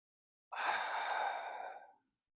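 A single deep, slow breath during yoga practice, heard as one long, airy exhale of about a second and a half, close and quiet, with silence before and after.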